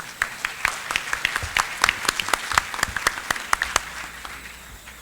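Applause for a speaker at a civil procedural law congress in Panama, a modest room of people clapping with distinct individual claps, fairly close, tapering slightly toward the end.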